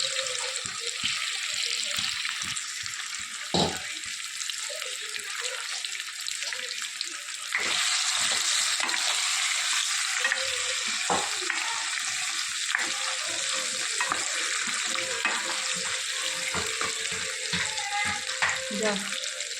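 Potatoes and cumin added to a simmering gravy for dum aloo, a steady broad sizzle and bubbling across the whole stretch, with scattered clinks and stirring knocks and a louder surge partway through.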